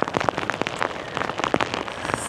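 Rain falls on surfaces outdoors, with scattered close drops pattering unevenly over a steady hiss, heard alone during a wet day near shops and a beach in Perth, Australia.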